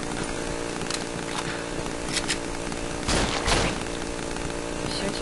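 Rapid bursts of gunfire from the horror game Cry of Fear, with clustered shots around the middle, heard over a steady background of game ambience.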